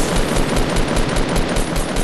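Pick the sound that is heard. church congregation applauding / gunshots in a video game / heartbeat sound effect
gunshots in a video game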